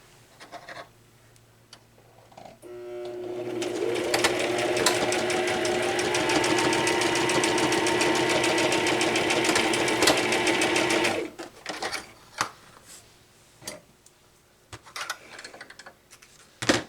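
Sewing machine stitching along the edge of a cross stitch pillow on a folding table, starting after a few clicks, running fast and steady for about seven seconds, then stopping, followed by soft handling clicks and rustles.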